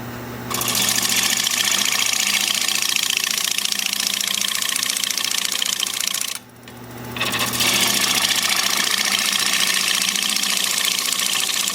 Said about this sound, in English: I'll be turning at about 865 RPM with my 5/8 inch bowl gouge